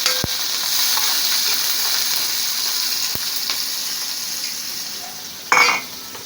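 Food sizzles steadily in a pan after fat is added for Egyptian-style ful, a close, constant frying hiss with a couple of small clicks and a brief louder splash near the end.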